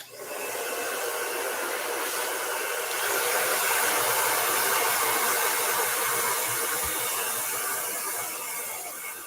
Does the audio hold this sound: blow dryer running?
yes